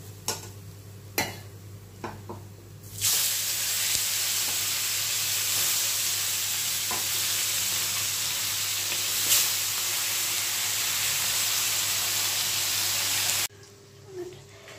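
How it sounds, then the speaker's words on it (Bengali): Fish pieces fry in hot oil in a pan, a loud, steady, close sizzle that runs continuously for about ten seconds, preceded and followed by a few knocks and clatter, with no talk. "তুলে নিয়ে আর সব মাছগুলি এইভাবেই ভেজে নিতে হবে"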